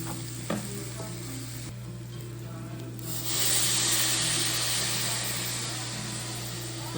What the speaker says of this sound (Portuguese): Deixar esse arroz dar uma refogadinha aqui